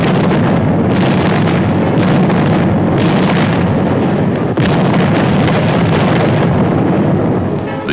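WWII artillery fire from August 1944 fighting in France, recorded on old archival film: loud, rumbling booms rolling over a constant roar of wind-like noise, with several heavy thuds in succession.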